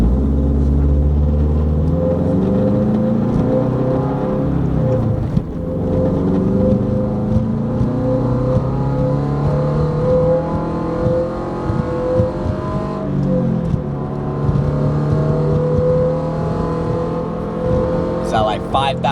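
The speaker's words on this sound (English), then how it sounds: "Let's get these in-cabin flybys. First, we're gonna start off with the valves closed." A 2022 Toyota GR86 with an aftermarket exhaust, valves closed, heard from inside the cabin. It gives a loud, continuous engine drone that climbs through the revs, with gear-change dips near the fifth and fourteenth seconds.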